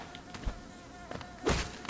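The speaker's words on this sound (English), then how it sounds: "Wow, there are a lot of these bees here." Hiveling bees in the game Hollow Knight give off a faint, thin insect buzz, with a few soft taps and a louder burst near the end.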